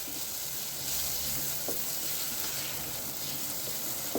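Onions frying with curry powder in a pan, a steady soft sizzle throughout with faint scrapes of stirring, close and even in level.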